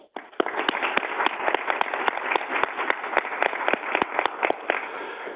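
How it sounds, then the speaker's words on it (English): A small audience at a board of directors meeting gives a round of applause for departing board members: sparse individual claps that fill in quickly and hold steady, fairly close, with no talking over them. "join me in acknowledging all of them with a round of applause"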